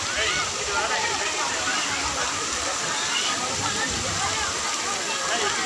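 Water pours like rain into a swimming pool, a continuous dense hiss and splatter that stays even and close throughout.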